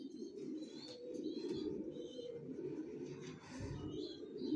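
Racing pigeons coo continuously in low, rolling throaty notes, several birds close by with occasional higher chirps over the murmur.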